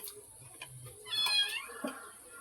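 A nearby cat gives one clear, drawn-out meow midway, followed by a fainter shorter cry, over a quiet room with a faint steady high whine.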